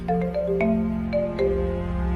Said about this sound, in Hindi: फोन की रिंग बजी